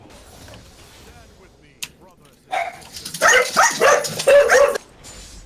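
A dog barks several times in quick succession, bright and sharp, after a stretch of quiet background noise and a single click.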